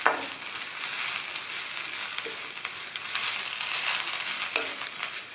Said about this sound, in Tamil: இந்த கருவேப்பிலையை நல்லா மொறு மொறுன்னு வர வரைக்கும் வறுத்துக்கணும்